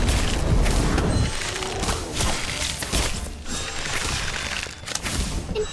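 A fire spell, Incendio, goes off in Harry Potter: Magic Awakened: loud booming whooshes and crackling bursts that roll on continuously for several seconds, with no talking.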